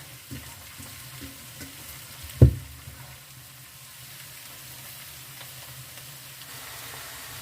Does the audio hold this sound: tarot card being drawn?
no